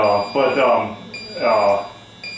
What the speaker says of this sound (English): This one, you just get one tick and then you get an alarm